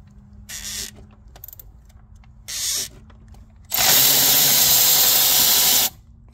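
A power ratchet on a 2006 Ford Ranger 4.0 engine with broken guides and jumped timing, backing out a seized bolt: short whirring bursts, then one long loud grinding run, close up with no talk.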